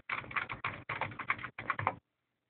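Fingers type letters on a computer keyboard in quick, dense clatter, broken into three short bursts with brief pauses, then it stops abruptly. Close and clear, with no voices.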